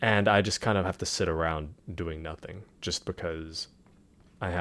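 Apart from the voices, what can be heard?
None of the usual background noises is heard.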